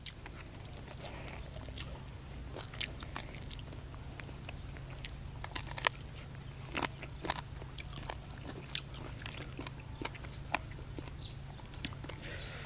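Quiet, close crunching and chewing of chicken feet with irregular crisp cracks, like small bones breaking between teeth, without any talking.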